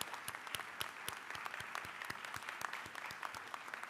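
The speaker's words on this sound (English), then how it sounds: "please stand so we can give you a round of applause" A commencement audience applauds volunteer board members as they stand: a steady, fairly distant wash of many hands clapping with sharp individual claps standing out, no voices on top.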